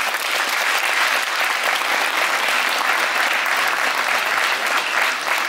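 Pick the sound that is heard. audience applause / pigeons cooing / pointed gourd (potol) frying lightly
audience applause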